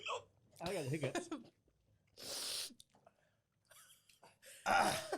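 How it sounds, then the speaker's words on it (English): Hiccups from a man after eating an extremely hot chip, sharp short bursts scattered between gasps and pained groaning. "I got the hiccups."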